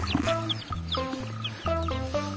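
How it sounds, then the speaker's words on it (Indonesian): Colorful rainbow-dyed chickens cluck and squawk in a continuous, loud, overlapping burst of calls while being caught, with no talking. "Ternyata di sini ada ayam warna-warni lagi."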